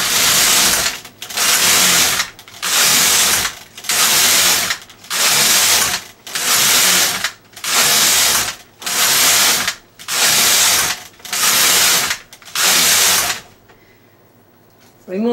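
A knitting machine carriage is pushed back and forth knitting rows of a sweater, eleven loud rasping, ratcheting passes in a regular rhythm, each separated by a brief pause, before everything falls quiet.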